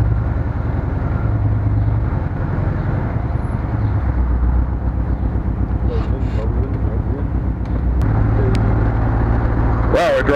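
Old Checker limousine driving for the first time in 28 years, freshly fueled and fitted with a new battery; a steady, close engine drone and road rumble run throughout, with brief voices over the top.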